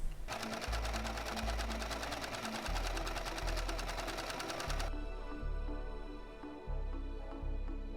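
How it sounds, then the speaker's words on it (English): A serger sewing machine runs fast and steady while finishing the inside seams of paper bag trousers, a close, continuous mechanical whir with a rhythmic needle pulse that shifts in tone partway through. "But before that I need to serge it because I haven't done the inside of the trousers."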